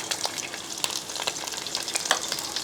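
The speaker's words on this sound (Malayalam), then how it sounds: "ആദ്യം വെളുത്തുള്ളി അങ്ങോട്ട് ഇട്ട് കൊടുക്കുക" Garlic sizzles and spits in hot oil for a Kerala-style beef fry, a steady close crackle with scattered louder pops and some stirring, and no voices.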